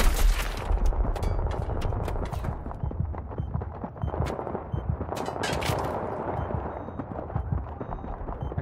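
Gunfire in a competitive Battlefield 3 match rattles continuously, with bursts of rapid shots and sharp cracks over a dense battle din. It stays moderately loud throughout, with no clear talk.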